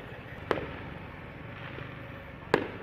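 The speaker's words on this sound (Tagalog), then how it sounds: "May nagpapaputok, hindi kumukuha na, nasa likod ko. May fireworks." Chinese New Year fireworks pop twice, two seconds apart, as sharp, fairly distant bangs over a steady low background hum.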